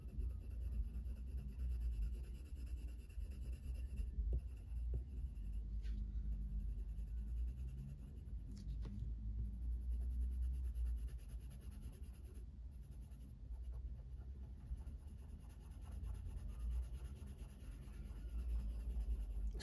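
Polychromos coloured pencils rub softly and steadily on paper, a faint continuous scratchy texture with occasional louder strokes, heard close and alone.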